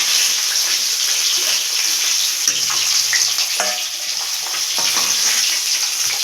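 Fish pieces lightly frying in hot oil in a kadai. An even, continuous sizzle with occasional clinks and splashy, watery sounds.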